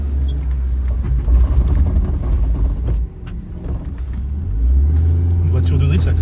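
A drift car's engine drones loudly and steadily, dips briefly and then rises again with a deep rumble. Odd mechanical noises from the differential come through while the car drifts, and voices talk over the engine.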